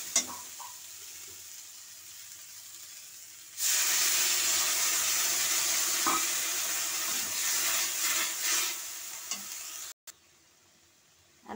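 Potatoes with mustard paste stirred in a pan: quiet at first, then a loud, steady sizzle and hiss with occasional stirring scrapes, suddenly dropping away near the end, no voices.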